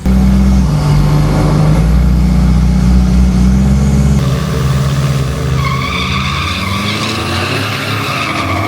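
An Isuzu D-Max diesel truck with an all-wheel-drive 1KD engine launches in a drag race, a loud, deep diesel roar that gives way to a higher, rising engine whine and tire noise as it pulls away, with no voices.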